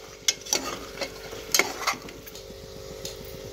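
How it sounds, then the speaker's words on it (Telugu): Chicken being stirred with salt in a cooking pan, a few clinking scrapes and stirs standing out over a low steady sizzle, with no talking. "కొంచెం సాల్ట్ వేసుకుందాం చికెన్కి తగిలేటట్టు. ఇంకా కొంచెం అండ్ దెన్ మంచిగా మిక్స్ చేసుకుందాం"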